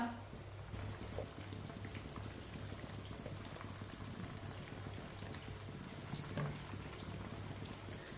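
Chicken cooks in a pan over a medium flame, giving a soft, continuous bubbling sizzle with faint crackles and a low steady hum underneath, quiet and close, with no talk.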